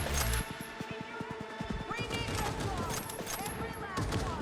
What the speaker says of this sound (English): They're shooting her.